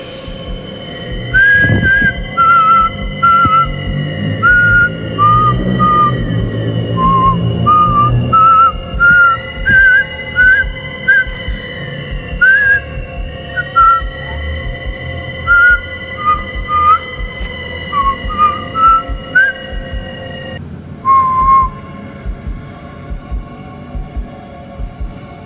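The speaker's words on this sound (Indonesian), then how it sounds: "Oke, gue coba pakai siulan sebentar ya." A person whistles a slow, wavering tune alone inside an abandoned factory, the notes rising and falling in short phrases over a low steady hum and scattered rumbling, with no talking.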